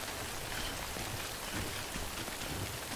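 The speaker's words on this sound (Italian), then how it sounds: "bella la pioggia" Steady rainfall in a video game, a soft, even patter of drops with no other sounds, faint throughout.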